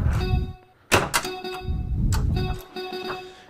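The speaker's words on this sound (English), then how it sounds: "See how it comes all the way around the game?" A pinball ball rolls and clatters around the loop of a Stranger Things pinball machine, with sharp thunks and rattling knocks in bursts, close and fairly quiet, with steady electronic tones ringing underneath.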